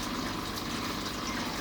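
An aquarium air pump drives air through air stones in buckets of an aquaponics setup, giving a steady, close, even hiss of bubbling water with no pauses.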